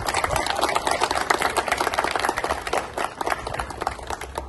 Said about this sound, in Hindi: सभी इनके लिए एक बार जोरदार ताली हो जाए।